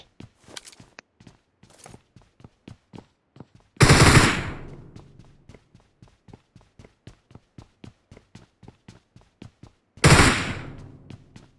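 Gunfire in the mobile game PUBG Mobile: a steady run of evenly spaced sharp shots cracking close and crisp, with two louder booming blasts that ring out and decay.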